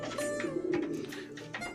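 Kayseri play pigeons, an old Turkish breed, coo softly and close by, a few low burbling calls in quick succession with faint background noise.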